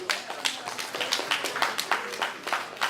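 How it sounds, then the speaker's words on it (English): Audience clapping at a community anniversary awards ceremony after a dedication award is presented, a steady patter of many hands at moderate distance that holds through the moment with no one speaking over it. "a round of applause for Mr. Kwabena Yufeo."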